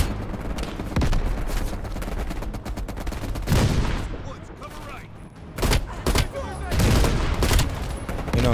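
Rapid bursts of gunfire in the video game Call of Duty: Black Ops Cold War, loud clustered shots and automatic fire in quick volleys with short pauses between them, while a voice talks over the action.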